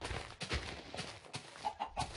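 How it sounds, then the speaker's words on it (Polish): A chicken in the video game Minecraft gives several short clucks in quick succession, at a moderate level close by, against a soft background noise. "Się doczepił kurczak."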